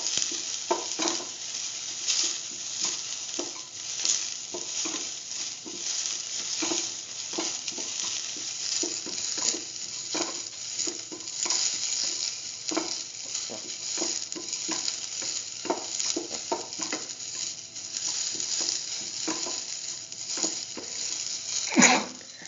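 Onions sizzle in hot oil in a pan while a spoon stirs them, a steady bright frying hiss broken by frequent scraping stir strokes, close and moderately loud, with no talking, during noodle cooking with soy chunks.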